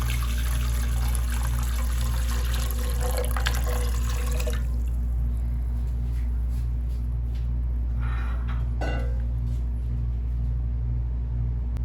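Water pours into an idli steamer pot for cooking kozhukkatta, a rushing splash for about four seconds, then a few scattered drips and small clinks over a low steady hum.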